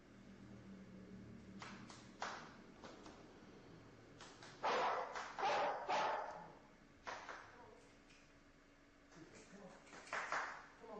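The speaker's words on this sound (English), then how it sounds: "we actually went out earlier to film the dog, and this is what happened." A dog in a tavern barks in several short, sharp bursts at irregular intervals, fairly near, with a voice talking in the background.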